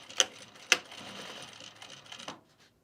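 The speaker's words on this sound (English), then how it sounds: "So I'm going to center my handle over the mark there and just sew it 1/4 inch, I think." A domestic sewing machine stitches a handle onto a travel bag: two sharp clicks, then a brief steady mechanical whirr of stitching for under two seconds, fairly quiet, with no talk.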